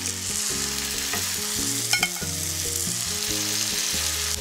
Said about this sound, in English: I'll cook the cod fillets on one side for about